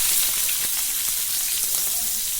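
Steady sizzling and crackling of chopped onion and curry leaves frying in hot oil, continuous and close, with faint scattered pops and no voices.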